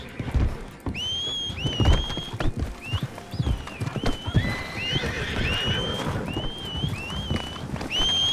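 A horse is summoned in a video game: a series of rising whistle calls repeats over scattered hoof clops and soft patter, all at moderate level with no talking.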